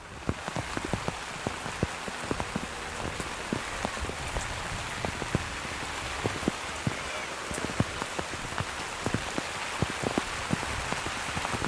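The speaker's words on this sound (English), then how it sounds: "Rain again, starting to pick up a bit." Steady rain falls on an outdoor soccer field, a dense patter of drops with scattered louder hits close by, and no talking.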